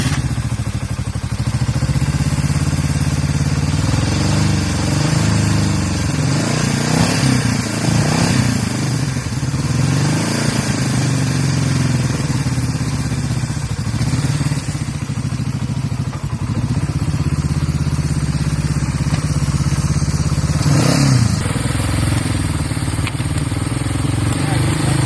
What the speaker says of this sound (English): Even my dad's little Honda CL350 sounds just as mean and aggressive and fast as almost any bike today